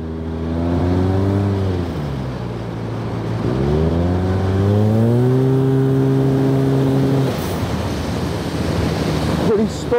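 Yamaha TMax scooter fitted with a turbo and making about 100 horsepower, ridden at speed: a loud engine note climbs, dips and climbs again through steady revving under heavy wind rush, close up.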